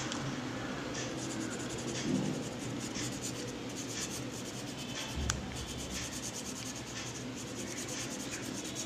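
Sketch pen drawn across paper, giving a steady scratchy rubbing and scribbling that runs alone and fairly close throughout, with a brief louder stroke near the middle.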